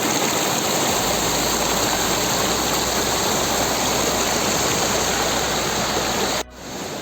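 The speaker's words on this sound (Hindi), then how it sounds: "इतनी खतरनाक नदी।" The Nile, a fast and dangerous river in mountain terrain, roars as a loud, dense, continuous rush of water close by, cutting off abruptly near the end to a quieter wash.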